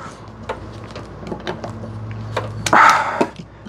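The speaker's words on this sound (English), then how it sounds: "my tap wrench is a little bit too large. So I need to tighten it down a little bit more." A tap wrench is tightened while threading a hole in a camera mount, giving scattered sharp metallic clicks and a low scraping grind, with a louder rasping squeak near the end.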